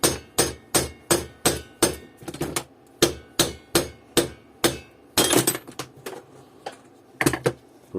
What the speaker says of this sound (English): even with the rubber hammer.